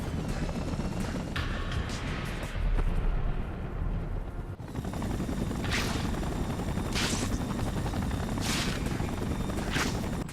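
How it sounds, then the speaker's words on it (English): A helicopter in the Spider-Man 3 game whirs with a steady, dense rotor roar that fills the scene, while sharp bursts of impact or gunfire-like effects break through over it at intervals. "Gotta stop the chopper from hitting the street."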